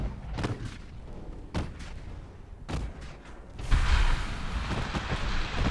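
Torpedoes launching from a warship in the naval game Ultimate Admiral Dreadnoughts: a string of loud, rumbling booming thumps, then a sustained roaring rush of noise.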